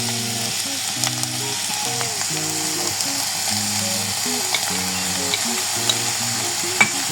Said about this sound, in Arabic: انا دلوقتي هنزل الفراخ عشان تاخد تشويحة مع بقية الخضار اهو.